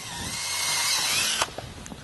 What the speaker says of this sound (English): I will actually just go ahead and drill the center of the plastic out